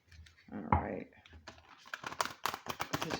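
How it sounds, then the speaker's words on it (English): Oracle cards are side-shuffled by hand in quick, crisp riffling bursts, close up, with a brief murmur of voice near the start. "This is just the side shuffle."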